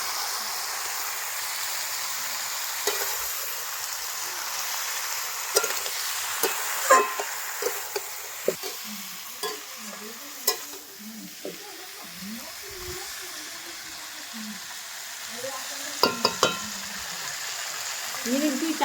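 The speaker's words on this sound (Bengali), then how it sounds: "ভালো করে মাংসটা কষিয়ে নেব।" Chunks of desi goat meat sauté in a hot pan with an even, soft sizzle, broken by occasional scrapes and knocks as the meat is stirred.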